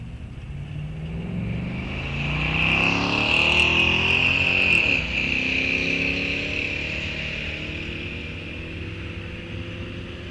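Junior Street drag race cars on the track at Rock Falls Raceway, an engine rising to a loud, high-pitched climbing whine and roar at mid-distance, then fading as the car pulls away.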